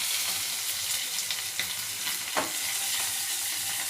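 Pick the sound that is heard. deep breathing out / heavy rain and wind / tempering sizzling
tempering sizzling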